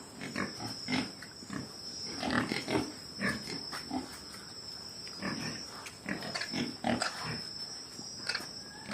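Pigs on a farm grunt and snort in short, irregular bursts at moderate distance, with a steady high-pitched electrical whine running beneath.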